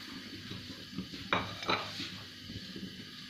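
A spoon or spatula scrapes and clinks against a pan while white sauce for macaroni is stirred, with a soft bubbling undertone and two brief, brighter metallic scrapes in the middle.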